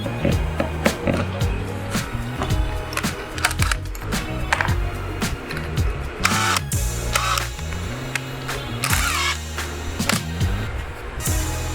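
A power drill turns a Forstner bit through plexiglass, making a loud, close motor whine that keeps shifting in pitch as the load changes, broken by gritty cutting bursts.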